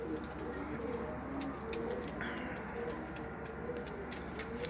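Domestic pigeons kept in pairs coo in soft, repeated low calls at close range, with a steady background hum.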